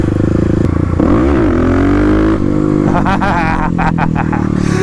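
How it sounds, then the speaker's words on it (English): A Kawasaki KLX351 dirt bike roars through a clutch-up wheelie, engine revving hard and rising in pitch with clattering mechanical noise, loud and close. "That is the best clutch up wheelie I've had in a while"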